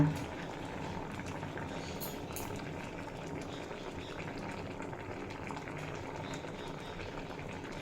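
Vegetables for Bengali sukto boiling in a pot of water, a continuous low bubbling and gurgling that stays even and moderately quiet throughout, with a few brief clinks near the start.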